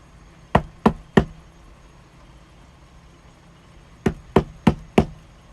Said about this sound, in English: her quiet evening was shattered by loud, angry knocking on her door